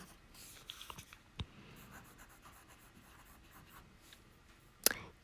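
Fountain pen with a stub nib writing on paper, heard alone as faint, close scratching strokes in short bursts, ending with a sharp click.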